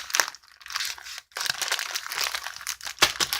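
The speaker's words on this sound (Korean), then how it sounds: "여기 안에 비닐봉지가 들어있네요" A plastic bag found inside a taped package crinkles and crumples in close, loud bursts of rustling, with a couple of brief pauses and sharp crackles, and no talk.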